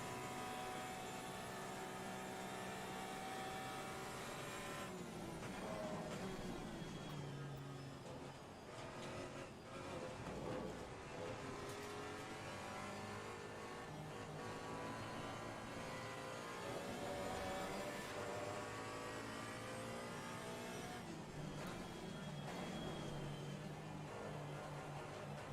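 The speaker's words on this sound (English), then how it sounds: "I don't need to upshift here, I can just rev it out and it keeps accelerating" Racing-sim GT4 race car at Spa in Assetto Corsa Competizione, its engine held at high revs and steadily accelerating without an upshift; a loud, continuous droning whine with shifting harmonics that runs unbroken throughout.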